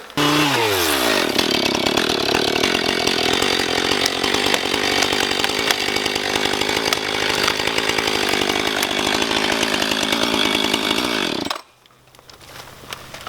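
A chainsaw cutting down a tree roars loudly and steadily at close range for about eleven seconds, then cuts off abruptly, leaving faint background noise.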